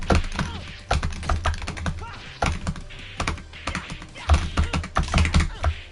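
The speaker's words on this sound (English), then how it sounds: "the keyboard or the joystick device you're hearing is Chan-Shai sound" Keyboard or joystick buttons clicking right up against the microphone in rapid, clustered bursts of hard taps with brief pauses between flurries.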